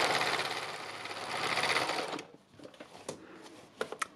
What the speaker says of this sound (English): I'm going to zigzag a stitch up it so it stands out